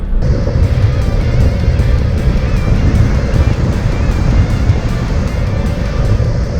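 A Mitsubishi Triton 4WD driving along forest tracks in Julimar State Forest, giving a loud, constant engine drone and road roar heard from inside the vehicle throughout.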